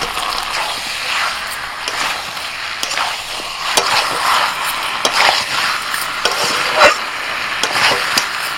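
Fried papaya and potato pieces go into a pot of chicken being cooked down, bringing a steady sizzle with utensil scrapes, knocks and stirring clatter close by, fairly loud throughout.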